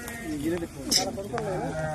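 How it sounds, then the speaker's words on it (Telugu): Sheep bleat in short wavering calls, close by, while people talk over them. "గొర్రెలు మాట్లాడుతుంది"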